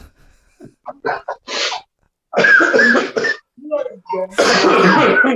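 Several harsh coughs in quick bursts, loud and close, with someone talking between them.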